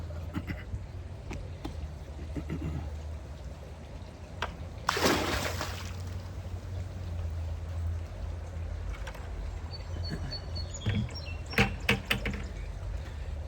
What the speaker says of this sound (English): Let me pour this back in the pool.